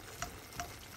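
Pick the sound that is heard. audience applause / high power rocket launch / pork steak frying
pork steak frying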